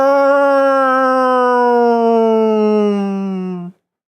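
An air raid siren sounds in a tabletop role-playing game, one long, loud, steady wail held for about three and a half seconds before cutting off abruptly, with no talk over it.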